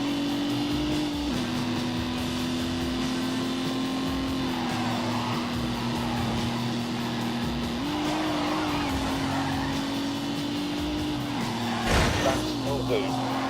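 Racing car with a 2.5 litre V6 engine, twin plate clutch and disc brakes all round, driven in a video game, holds a steady loud engine drone with pitch shifts as it changes gear, a brief squeal or thump near the end, and talk over it.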